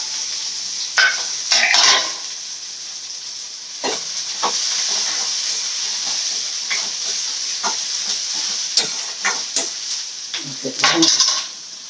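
Onions and curry leaves sautéing in a pan, a soft steady sizzle with intermittent stirring scrapes and clinks of a utensil against the pan, close by and fairly quiet.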